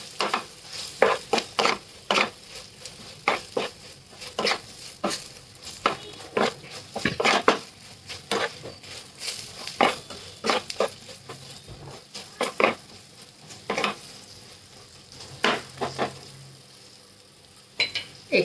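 Green chillies sautéed with salt in a pan over a low flame, stirred with a spoon: repeated scraping strokes in an uneven rhythm over a soft, steady sizzle, close and moderately loud, no talking.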